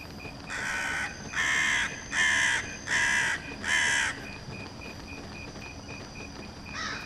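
A crow caws five times in an even, steady rhythm in a video game, each harsh call loud and close, with a fainter sixth call at the end over quiet ambient noise.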